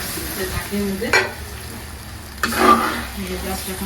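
Onion paste, salt, turmeric and chili powder frying in a pan for a fish curry, with a low steady sizzle broken by two louder bursts of stirring and scraping.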